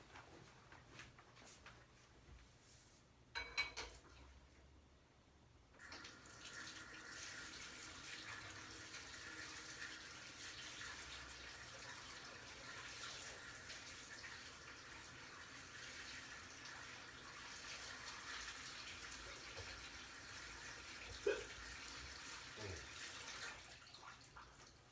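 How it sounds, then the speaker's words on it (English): Tap water runs steadily into a kitchen sink while a burger plate is rinsed off, a continuous broadband hiss starting after a few seconds of quieter handling and holding evenly, close and moderately loud, with no talking. "And this plate needs to be washed off."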